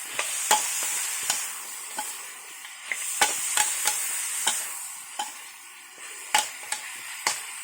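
Pork ribs with lemongrass are stir-fried in a pan, a moderate sizzle underneath repeated sharp clacks of a spatula striking the pan at an irregular rhythm, close and clear with no talking.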